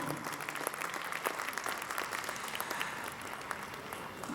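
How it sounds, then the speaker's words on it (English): An audience at an awards ceremony for service organisations gives a round of applause, a continuous, even patter of many hands heard somewhat faint and distant, with no voices over it. "So let's give them a round of applause for their effort."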